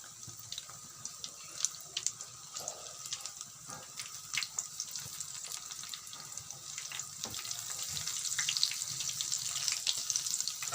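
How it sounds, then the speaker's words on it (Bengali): Pumpkin flower fritters frying in hot oil, giving a steady crackling sizzle with scattered pops that grows gradually louder and denser toward the end, with no voices. "সবগুলো উল্টে দেওয়া হয়ে গেছে আবার একটু ভেজে নেবো"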